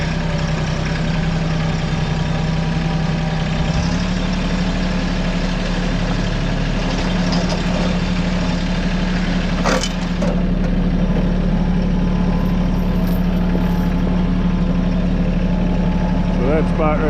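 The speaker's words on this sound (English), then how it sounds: "Red tractor." A red tractor engine runs steadily, a loud, close, continuous mid-low drone with a constant pitch, broken near the middle by a few brief clanks.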